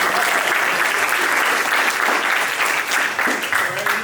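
A crowd at a university athletics media day for the North Alabama Lakers bursts into a loud, sustained round of applause, dense clapping holding steady throughout.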